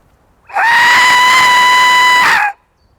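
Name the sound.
scream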